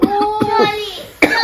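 Harsh coughing fits during Holi celebrations, where colored powder was thrown, come in short bursts from a person with a caught throat, close and loud, mixed with speech.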